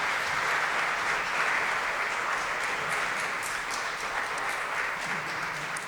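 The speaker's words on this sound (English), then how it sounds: "let's give an applause" Audience applause after a talk at a linguistics conference, a dense, steady wash of many hands clapping that holds strong for about six seconds without easing.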